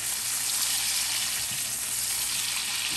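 Steaks pan-frying in hot fat while being basted, a dense, continuous close-up sizzle that holds steady and loud from start to finish.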